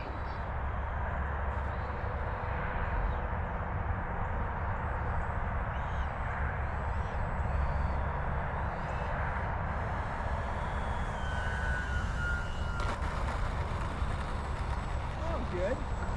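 An FMS Super Scorpion 90mm EDF RC jet flying, its ducted-fan whine a steady, fairly loud roar throughout, with a rising whoosh near the end.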